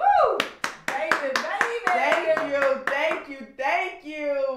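Church congregation clapping hands in a quick, steady rhythm close by, sharp repeated claps under loud voices calling out.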